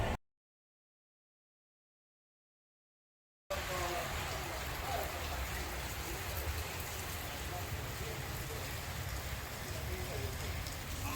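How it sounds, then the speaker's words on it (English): Steady rain falling on a morning in Matagalpa, a dense even patter after a brief silent gap at the start, continuous and moderately close. "rainy day in Matagalpa"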